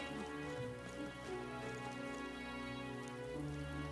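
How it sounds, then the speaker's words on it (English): Steady rain falls in the video game Metaphor: ReFantazio, a constant soft patter under sustained tonal game music at a low, even level, with no voices. "Oh, I hate the rain."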